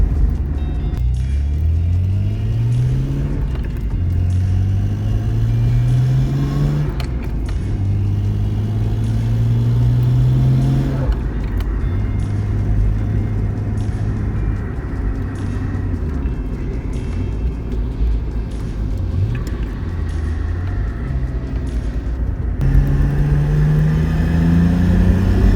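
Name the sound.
Nissan Skyline GTR engine with exhaust leak, tractor-like sound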